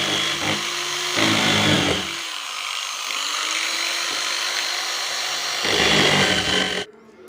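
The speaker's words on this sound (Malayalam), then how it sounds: "അതുപോലെ ഒരു ഡ്രില്ലും ചെറിയ സോ ബ്ലേഡും വെച്ചിട്ടാണ് ഞാൻ യൂസ് ചെയ്യുന്നത്" A power drill fitted with a small saw blade cuts into a metal oil can, producing a loud, harsh grinding whine in bursts with a steadier droning stretch between them, ending abruptly.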